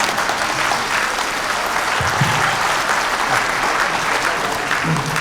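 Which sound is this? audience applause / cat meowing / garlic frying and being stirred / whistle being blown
audience applause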